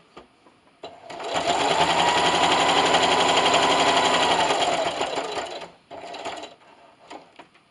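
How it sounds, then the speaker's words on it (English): A sewing machine with a walking foot stitches through thick pot holder layers. It starts with a short burst, then runs a loud, sustained, even whir for about four seconds, followed by a brief second run and a few clicks. "So now I'm just going to back stitch in the beginning. And just keep sewing."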